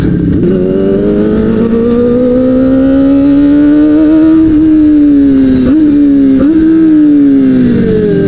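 A heavily modified Kawasaki ZX25R's high-revving inline-four wails loudly and continuously, its pitch climbing steadily with quick auto-blipper shifts causing brief dips and surges, close and dominant throughout.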